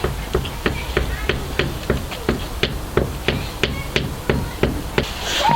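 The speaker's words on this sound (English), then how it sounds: "Like hit it in with a hammer." A heavy hammer drives wooden sticks with spiked bottoms into garden soil at a children's forest school, giving a steady series of close, dull knocks about twice a second.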